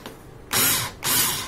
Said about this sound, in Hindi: रिवर्स मोड फंक्शन सिलेक्ट करके हम यहां से आपको ये स्क्रू बाहर निकाल के दिखाएंगे।